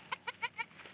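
A newborn goat's small bleats, four short rhythmic cries in quick succession, close and fairly quiet.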